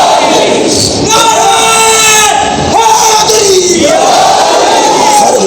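A large crowd at a Shia religious gathering roars the Naara-e-Haidari slogan, loud, drawn-out voices rising and falling in unison in two or three swelling shouts.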